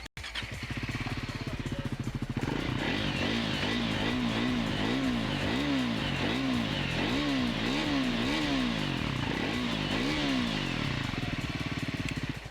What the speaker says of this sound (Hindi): Let's hear the exhaust of this Scrambler 400X.